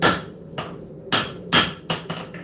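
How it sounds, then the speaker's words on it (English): A blade tang held in forging tongs is struck with a hammer in the shop, five or six sharp metallic blows at an uneven, deliberate pace, loud and close with ringing decay and no talking. "holding the tang with my tongs, hammering here"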